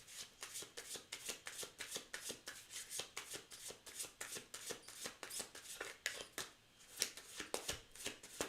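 Tarot cards shuffled by hand nearby, heard as quiet, repeated riffling and soft slapping bursts in an uneven rhythm, with no talking.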